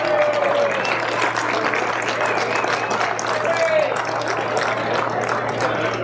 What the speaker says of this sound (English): They come here to help us, and I want to give them a round of applause.